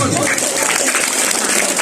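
Applause from an audience at a Balinese bondres comedy performance: a brief, continuous burst of dense clapping, fairly loud and close throughout.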